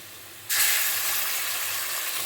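Spices tipped into hot oil in a pan for a Bengali-style goat meat curry burst into a loud, bright hiss after a quiet moment, then keep sizzling steadily and close, with no talking.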